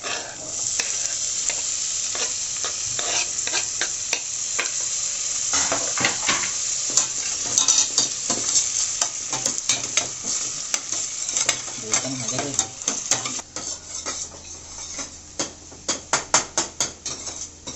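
Onion and tomato frying in a pan while a veg pulav is cooked, a steady sizzle broken by sharp clicks and scrapes of a spoon stirring against the metal, with louder taps near the end.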